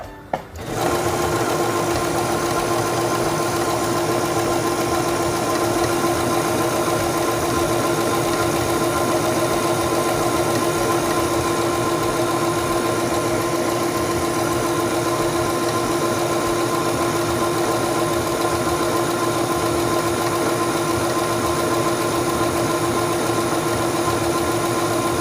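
A Singer 7258 computerized sewing machine stitches fabric with a steady, fast mechanical whir and rapid needle ticking, running continuously up close with no pauses and no talk.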